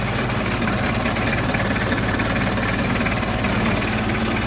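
A forklift engine idles steadily during a pre-trip inspection, a continuous, even mechanical rumble with a slight vibrating knock, close and unbroken for the whole stretch, with no one talking.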